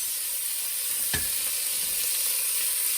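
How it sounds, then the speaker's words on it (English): Bacon sizzles steadily in a hot pan, a bright constant hiss with a brief sharp crackle partway through. "Let's see if we get a good sizzle here."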